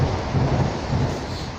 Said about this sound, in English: And it's raining as well.